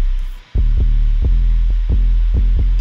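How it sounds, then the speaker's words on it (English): Heavy, punchy 808 sub bass notes thump in a steady pattern, compressed and saturated so each hit slams with a dense, buzzing low end. "I like to really compress my 808s because you want them slamming."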